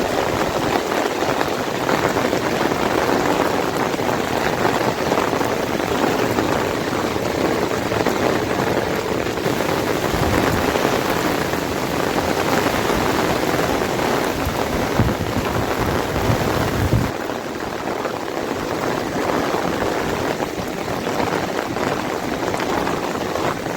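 Heavy monsoon rain pours down at the Deogad windmills by the sea, a dense, continuous hiss of downpour that holds steady the whole time with brief shifts in intensity and no talk.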